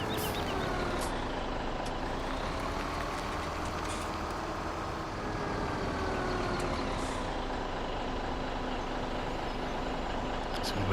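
A truck's engine drones steadily and close as it pulls into a truck stop in Farming Simulator 17, a continuous low rumble with faint higher whines riding over it.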